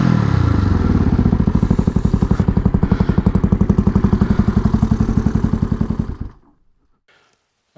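A motorcycle engine idles close by with an even, throbbing low beat and some clatter for about six seconds, then shuts off abruptly into near silence.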